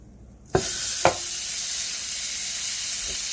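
Beef hind shanks hit a hot pan with a sharp sizzle, then a second piece lands and a steady loud frying hiss carries on to the end, close and alone.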